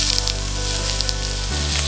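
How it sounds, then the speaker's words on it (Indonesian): Beef and enoki mushroom rolls sizzle on a hot grill, a steady close frying hiss with soft crackles throughout, no talking. "suaranya menggoda banget bukan? Oke, kita panggang di atas."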